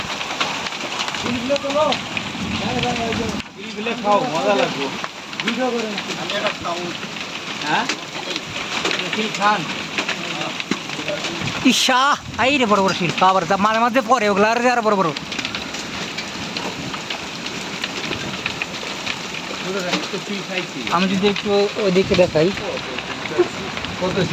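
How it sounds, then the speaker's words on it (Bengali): Hail pelts down in a fierce storm with strong wind, a dense steady drumming and rushing roar that runs the whole time, while voices talk over it in several bursts. "বাতাসের পরিমাণ আর শিলের পরিমাণ কিন্তু অনেক বেশি"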